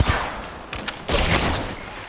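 Bursts of gunfire in the Apex Legends video game on Xbox Series X, a couple of sharp shots followed by a louder sustained volley, close and dense with no talk over it.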